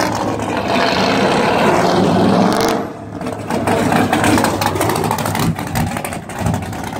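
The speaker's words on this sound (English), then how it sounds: "Oh, we bombing through the corners in the Focus" A Ford Focus ST is driven hard through corners, its engine droning loudly from inside the cabin with rising and falling revs, a brief lull, then renewed acceleration and road rumble.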